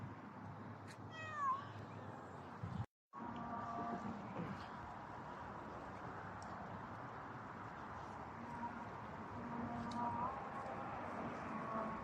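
A cat meows a few times, its short rising and falling cries sounding at a middling distance early on and again faintly later, over quiet outdoor ambience during a walk.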